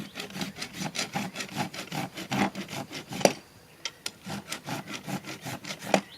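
A rasp files a horse's hoof during a natural trim, giving close, rhythmic rough strokes in a steady series of about fifteen passes with a few short pauses.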